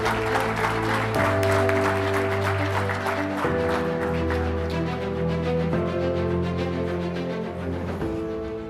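Steady audience applause at the IEFA Latam Forum 2025 conference, welcoming Pablo Quirno, runs loud and unbroken for the whole stretch beneath sustained, tonal background music.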